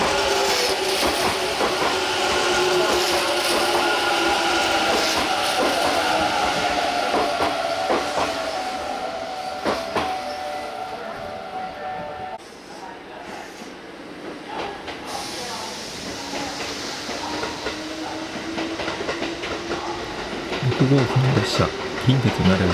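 A Kintetsu semi-express bound for Kintetsu Nara moves through Tsuruhashi Station with a continuous rumble, hiss and rail clatter that dips midway and swells again, with muffled station voices in the background.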